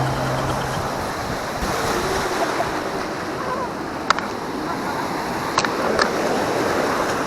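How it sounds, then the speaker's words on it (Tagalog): Big ocean waves wash ashore at Tondaligan Beach Park as steady, broad surf roar with wind buffeting the microphone, a few sharp knocks near the end and faint voices in the background. "Lalaki na alon!"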